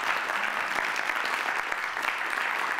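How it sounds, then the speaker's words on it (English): An education conference audience gives a big round of applause for tennis coach Judy Murray, a dense, even wash of clapping from a large crowd lasting under three seconds. "So please give a big round of applause."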